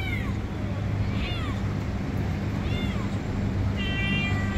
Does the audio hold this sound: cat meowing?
yes